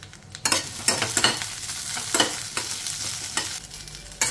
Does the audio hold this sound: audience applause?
no